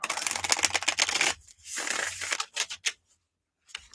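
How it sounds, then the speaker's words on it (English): Tarot cards are shuffled in quick riffling bursts, a dense flutter of card edges that stops, resumes in shorter flicks, then trails off into near silence. "Let's give these a couple shuffles here."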